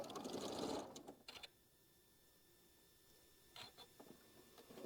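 A sewing machine stitches a quarter-inch seam down the side of a quilt block. A rapid, close run of stitching comes first, then a quiet pause, then a few short bursts of stitching.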